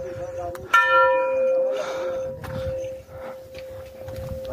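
A temple bell at a temple's main gate in Nepal is struck once, loud and close, its clear tone ringing on and slowly fading while people talk and move nearby.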